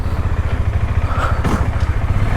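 A motorcycle engine runs after a cold start, a steady low rumble with rhythmic clatter close by, holding even throughout with no voices.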